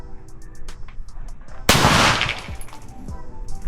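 A single loud gunshot bursts out at a shooting range, sharp and close, with a reverberant tail that fades over the next second or so; faint voices and background noise sit around it.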